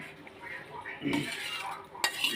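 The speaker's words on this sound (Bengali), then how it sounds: "এইবার সিদ্ধ করা ডাল ছিল, ডালটা দেওয়া হচ্ছে" Boiled lentils poured into a pot of khichuri, with clinks and scrapes of a metal utensil against the pot and a soft wet splash, fairly close, with faint talk in the background.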